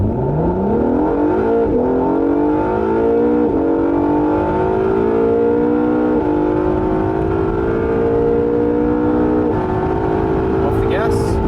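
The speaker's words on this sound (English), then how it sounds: "Foot on the brake, full power." A race car engine launches at full power, revving hard and climbing in pitch through several quick gear changes, then holding a loud, sustained roar close by.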